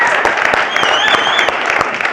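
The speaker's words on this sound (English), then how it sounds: "if we can hold the applause, we'll get through more efficiently" Applause from the audience at a mayoral debate in Ketchum, Idaho: a crowd clapping steadily, with sharp individual claps standing out through the dense patter for the whole stretch.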